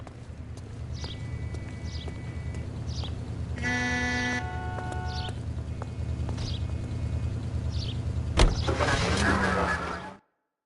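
A car cruises through 1940s Los Angeles in the detective game L.A. Noire, its engine a steady low drone throughout, with a brief horn-like tone midway and a sharp thump near the end.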